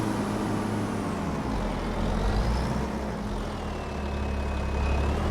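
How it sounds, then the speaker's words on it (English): Diesel harvester engine in Farming Simulator 25, a steady low rumbling drone running continuously and fairly loud throughout, with faint whining tones drifting above it. "I do love the engine sound in this harvester. It just sounds, you know, like a diesel should"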